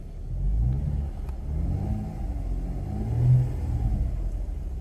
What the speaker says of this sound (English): This car's warm, so we can rev it